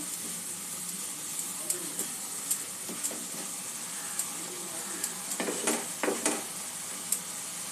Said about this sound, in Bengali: মশলাটা একটু কষে যাওয়া পর্যন্ত একটু অপেক্ষা করব